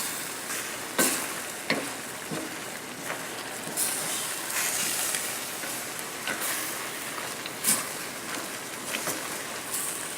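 Tomatoes heating briefly in a pan alongside pork loin, pineapple, mushrooms and broccoli, a steady close sizzle with periodic utensil scrapes and clicks as the food is stirred, no talking.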